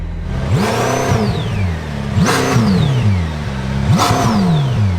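A McLaren Speedtail supercar revs hard three times in a row, each blip climbing quickly and falling away over a steady engine drone, loud and close with no talking.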